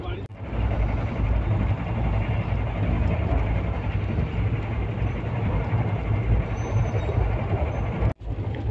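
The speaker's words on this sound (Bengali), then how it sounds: "এবার আমাদের সাথে দেখা হবে 22-859 MGR চেন্নাই সেন্ট্রাল সুপারফাস্ট এক্সপ্রেসের সাথে।" The 22859 MGR Chennai Central Superfast Express passes close by as a loud, continuous rumble and roar of rolling coaches, cutting off abruptly near the end.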